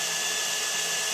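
A drill steadily bores out a soft bolt on an Oliver crawler tractor, a continuous high whirring grind holding an even pitch throughout, close and fairly loud with no voices.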